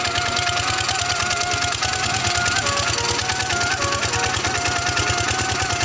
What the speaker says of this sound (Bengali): এই যে আমাদের মেশিনটা চলছে, জল হচ্ছে, এটা ছোটো মেশিন